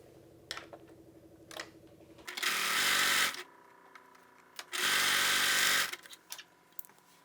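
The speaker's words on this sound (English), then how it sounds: "I'm going to be stitching it to the back with right sides together, and I'm going to be doing that at the shoulder seams and at the side seams." A sewing machine stitching the shoulder and side seams of a jersey t-shirt, running in two separate bursts of about a second each, with quiet handling clicks and rustles between and around them.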